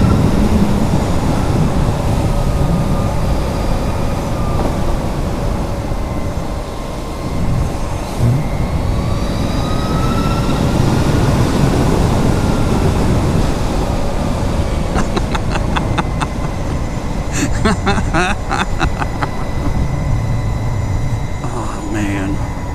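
A Harley-Davidson LiveWire electric motorcycle ridden at half throttle, heard as steady loud wind and road rush with a faint rising motor whine, continuous throughout, with brief clicking near the end.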